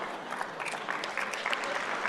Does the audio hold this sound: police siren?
no